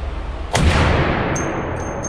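A Barrett M82 anti-materiel sniper rifle fires a single live round, one loud, sudden blast that rings out and decays over about a second and a half, with faint metallic ringing afterward.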